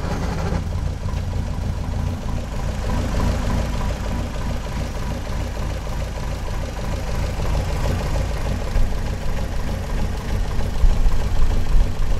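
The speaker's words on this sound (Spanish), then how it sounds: "Ahora vayamos a escuchar el sonido de su motor." A 1959 MGA classic car engine runs steadily at idle, a continuous low rumble with a fairly even, slightly knocking pulse, close and alone with no voices.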